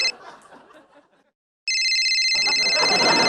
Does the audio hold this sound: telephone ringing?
yes